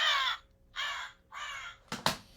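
A crow cawing three times in a steady rhythm, loud and near, each harsh call about half a second long, followed by a couple of sharper clicks, with no talk over it.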